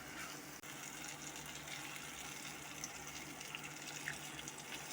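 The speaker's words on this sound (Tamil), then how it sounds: "இப்போ நம்ம இதுக்கு தேவையான அளவு தண்ணி ஆட் பண்ணிக்கலாம்." Water added to a fried onion chicken gravy in a cooking pan, a faint steady pour or trickle running continuously without a break, with no talking over it.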